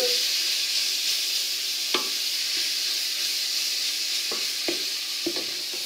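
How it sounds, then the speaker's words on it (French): Bolognese sauce sizzling steadily in a pan, a loud, continuous frying hiss broken by a few soft clicks of stirring. "Quand ça commence à crépiter un petit peu, c'est signe que c'est le moment de rajouter le vin."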